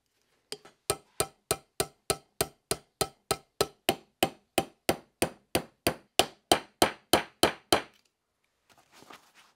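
Sharp metallic clanks from fitting trigger pins into a Remington 700 rifle action, about twenty evenly spaced close-up strikes in a steady rhythm, followed by a brief soft rustle.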